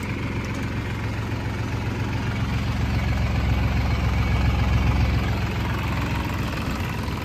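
A Massey Ferguson 245 DI diesel farm tractor runs steadily nearby, a loud, low, throbbing engine rumble with even rhythm throughout, no voices.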